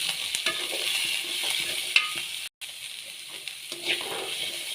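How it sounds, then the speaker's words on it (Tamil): Beetroot and onions stirred in frying oil give a steady broadband sizzle with occasional spoon scrapes and taps, fairly close, with one brief dropout midway and no talking. "நம்ம பீட்ரூட்டை இப்போ சேர்த்தாச்சு. அடுத்து நல்லா கிளறிக்கணும்."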